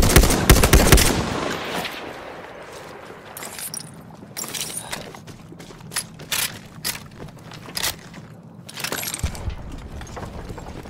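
Enemy machine gun fire in Battlefield 1: a loud, dense burst at the start, then short rattling bursts that recur irregularly over a quieter battlefield background.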